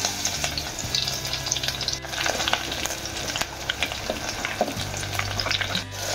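Curry leaves and garlic sizzle and crackle loudly in hot oil in a pan, a steady frying hiss with sharp pops and occasional stirring scrapes.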